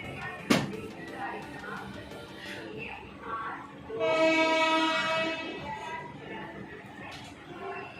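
An Indian Railways WDG4 diesel locomotive rumbles past at a station with railcar clatter, a sharp bang early on and a loud sustained horn blast midway, while a voice talks faintly underneath.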